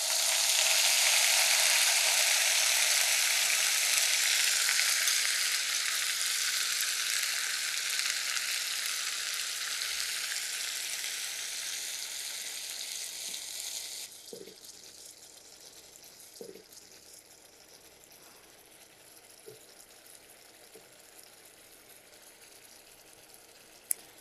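A blended onion and nut paste hits a hot pan with a loud, hissing sizzle that slowly dies down to a faint simmer, with a few spoon knocks near the end.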